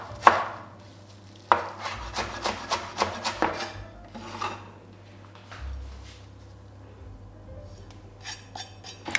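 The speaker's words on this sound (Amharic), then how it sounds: "እንደዚህ ከትፌ ቃሪያ ጨምራለሁ።" A knife chops chili peppers on a board in a home kitchen: a close series of sharp, irregular taps that cluster in a quick burst, then thin out to a few isolated cuts, with no talking.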